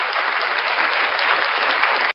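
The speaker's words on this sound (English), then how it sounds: "round of applause for Lucid Liar." An audience claps steadily in a dense, even burst of applause lasting about two seconds before cutting off abruptly.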